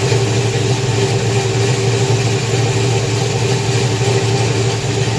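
A tuned car engine idles steadily through an O2 muffler after 253,000 miles, giving an even, close, loud low rumble with a constant hum and no revving.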